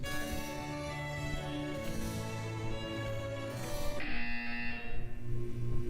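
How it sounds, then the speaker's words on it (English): A loud, grating buzzer in the Portal 2 video game cuts across steady classical music, the harsh tone dominating the sustained notes before the music shifts. "The classical music was slightly interrupted by the loud grating buzzer"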